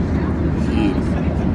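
Steady low engine drone inside an airplane cabin, a continuous, even rumble filling the space with faint voices mixed underneath.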